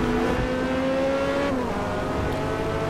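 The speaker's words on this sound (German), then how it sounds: "Oh, die hat einen geilen Auspuff-Sound." A Corvette C8 engine in the video game Forza Motorsport drones loudly and steadily at Road America, the exhaust pitch sliding down as it eases off, with no talk.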